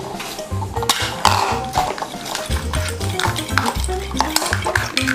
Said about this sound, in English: The first step is to crack an egg into a bowl and whisk thoroughly